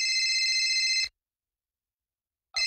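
Telephone ringback tone heard while a call is being placed: a steady electronic ring for about a second, then silence, then the tone starting again, clear and close with no talk over it.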